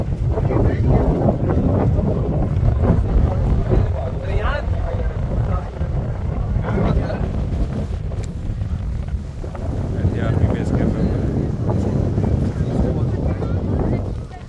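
Strong wind on the Nathatop hilltop buffets the microphone in a heavy, continuous roar, with voices talking faintly underneath.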